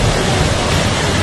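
Heavy-rain floodwater at Vaishno Devi rushes past in a loud, unbroken roar of churning water that fills the whole moment with no pause.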